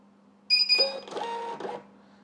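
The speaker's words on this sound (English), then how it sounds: "So this is the label which we have printed" An XPrinter XP-365B Bluetooth thermal label printer prints a label, giving a short close whirring, buzzing feed of about a second over a steady background hum.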